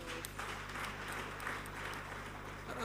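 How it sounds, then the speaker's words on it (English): An audience at a national cybercrime summit panel session applauds the panelists, giving a soft, continuous round of clapping heard faint and distant in the hall. "I think we should give the panelists another round of applause."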